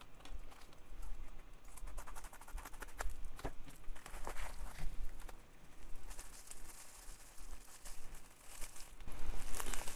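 A shipped parcel from China holding a silver Jinhao pen is handled and opened up close, with scattered crinkles, rustles and small clicks and no talk.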